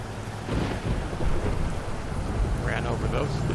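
Rain patters steadily in American Truck Simulator while low thunder rumbles underneath, with a faint voice in the background.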